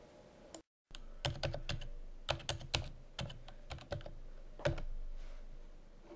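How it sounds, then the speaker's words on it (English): Keys clack on a computer keyboard as an IP address is entered into a browser address bar, a close, quiet run of separate taps in uneven bursts with short pauses between them, no talking. "go to my address bar and enter the IP address of this NetGuardian on my network"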